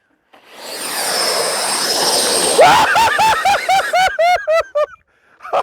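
An E-flite F-16 80mm electric ducted-fan RC jet whines loudly on its landing rollout with thrust reverse engaged, then the fan spins in short repeated throttle bursts that rise and fall in pitch, close by.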